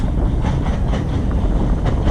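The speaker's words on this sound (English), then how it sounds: "It's another train." A low, continuous rumble of a passing train, mixed with wind buffeting the microphone, steady and loud throughout.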